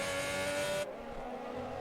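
F1 race cars in the F1 2020 video game at Silverstone whine loudly with a high, steady engine note for under a second before cutting off to a quieter engine hum.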